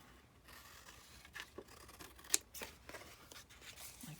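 Scissors trim a paper notebook flip tag, giving faint, close snips and light paper rustles in an uneven run, one cut crisper than the rest, with no talking.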